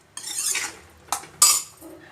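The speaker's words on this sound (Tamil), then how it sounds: "தேங்காயும் சேர்த்து நல்லா கிளறி விட்டுடலாம்" A spoon stirring grated coconut into a Tanjore-style milagu dish in a metal pan, three short scraping clinks close and distinct against a quiet background.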